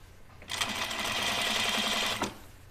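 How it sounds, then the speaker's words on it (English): A sewing machine stitches a flat felled seam on a men's button-up shirt: one steady, close run of rapid needle strokes lasting about two seconds, with no talking. "it's a flat felled seam that we're sewing"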